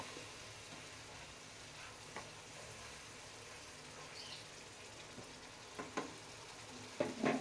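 Pangas fish and spices sauté in a pan, a faint steady sizzle with a few soft stirring clinks and scrapes, growing a little busier toward the end.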